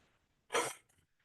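A single short, harsh cough bursts out close by against a quiet background.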